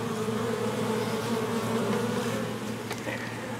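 A dense, steady buzzing of many honeybees close by, continuous and unbroken with a low droning hum throughout.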